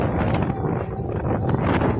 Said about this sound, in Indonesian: dihantam angin kencang.